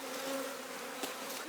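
Honeybees swarm around a hive inside a hollow old tree in the Jirisan forest, a dense continuous buzz with passing individual bees droning closer for a moment.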